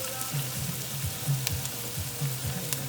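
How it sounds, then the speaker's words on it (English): Turkey meat sizzling in a pan with garlic and onions, a steady soft frying hiss with faint crackles, close and uninterrupted. "you're gonna go ahead and add the turkey meat"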